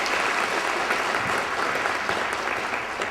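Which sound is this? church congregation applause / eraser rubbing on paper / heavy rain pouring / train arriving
church congregation applause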